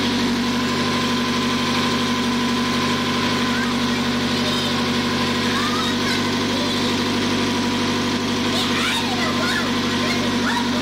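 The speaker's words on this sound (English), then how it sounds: "it's running about 1200 RPMs right now at idle" A 2000 Ford Focus Zetec engine transplanted into a 2000 Ford ZX2 idles at about 1200 RPM, a steady, smooth, continuous hum with a constant low tone throughout, close by and unbroken.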